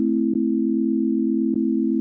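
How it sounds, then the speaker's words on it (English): A Korg opsix FM synthesizer plays a steady, pure sine wave tone that holds at one pitch throughout, with two faint clicks in the middle and no voices. "So here we have sine wave"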